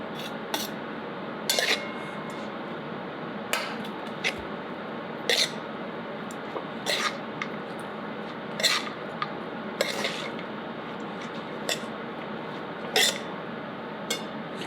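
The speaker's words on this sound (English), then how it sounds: "Now I'm going to add rice little by little." A spoon stirring cooked rice into a lime rice mix in a pot, with light metallic clinks about every second or two over a steady low background hiss.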